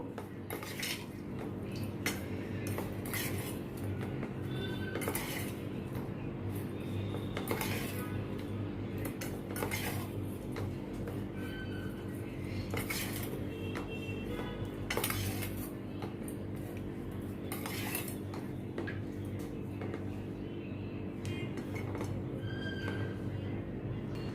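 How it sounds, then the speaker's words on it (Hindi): Taro pieces are tossed with spices and refined oil in a bowl, producing soft repeated clinks and scrapes of a utensil against the dish, fairly quiet and irregular throughout. "अब इन सभी को अच्छी तरह से मैं मिक्स करती हूँ।"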